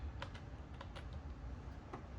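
Typing on an old laptop keyboard, a quiet run of light, irregular key clicks over a low background hum, heard close with no voices.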